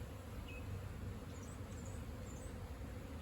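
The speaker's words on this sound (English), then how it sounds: "all three hives are out and moving. They're out doing their cleansing flights." Honeybees from three hives out on cleansing flights on a mild day near 50 degrees, giving a faint, steady outdoor hum with a few brief high buzzes of individual bees passing close.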